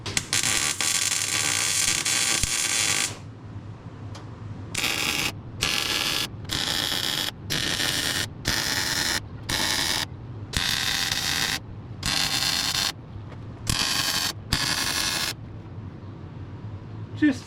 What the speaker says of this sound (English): Just a few stitch welds should suffice.